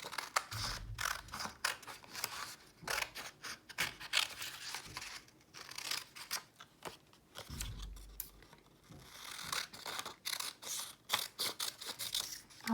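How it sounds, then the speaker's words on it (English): Scissors snip out a branch shape for a paper craft, with a quiet, close sequence of repeated crisp cuts and paper rustling, no talking. "And now I'm going to cut that branch out."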